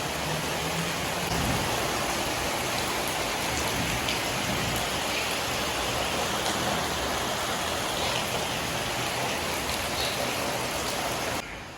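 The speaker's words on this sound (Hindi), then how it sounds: "तो इतनी शदीद बारिश है" Heavy rain pours down hard enough to flood the road, producing a dense, unbroken hiss of rainfall close by that stays loud and even before cutting off abruptly at the end; no speech.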